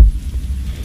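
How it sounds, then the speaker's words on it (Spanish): A single deep, throbbing heartbeat warning pulse from the stealth game Styx: Master of Shadows, loud and close with a low hum trailing after the first thump. "Cuando sale el latido, que es una de las primeras habilidades que compré, es eso, que alguien está a punto de notificarte"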